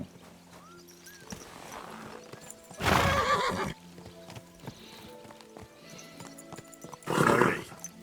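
A horse in the video game Kingdom Come: Deliverance II whinnies loudly twice, a few seconds apart, over soft hoof clops and ambient game sounds.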